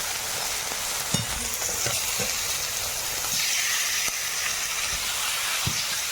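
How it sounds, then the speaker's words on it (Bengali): Meat fries with turmeric, chilli, cumin and coriander powders in a pan over tomato, a loud continuous sizzle and steamy hiss with a few scattered clinks of stirring, close up and without speech. "মিশিয়ে মাংসটাকে একটু ভেজে নেব"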